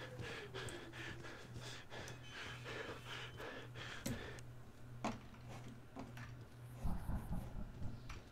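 Heavy animatronic breathing in FNAF: Help Wanted pants in a fast, steady rhythm over a low hum, with a few sharp clicks and a louder clatter near the end.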